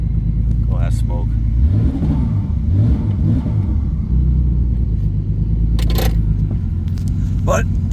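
A smoking Pontiac Grand Prix W-body car idles with a low, close rumble. Its engine revs up a couple of times, and brief clanks and knocks sound on and off around it.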